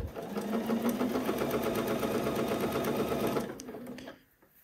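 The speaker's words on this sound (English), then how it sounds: "I'm using a straight stitch, and we are top stitching" A sewing machine runs a straight stitch, top stitching a band on a garment. It hums steadily and close for about three and a half seconds, then slows and stops.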